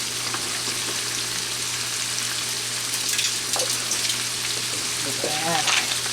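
Shrimp and rice frying in a pan, a steady quiet sizzle and crackle with a few brief stirring or spatter sounds near the end; no talking over it.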